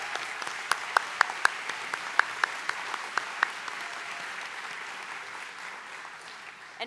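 Sustained applause for graduating Bachelor of Science in Nursing students at a 2022 college commencement, a steady wash of distant clapping from a large audience with a few sharper, nearer claps standing out.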